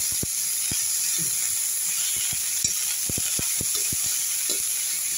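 Onions frying in a pan give a continuous hiss and sizzle, broken by repeated sharp spoon-against-pan clicks and scrapes as they are stirred.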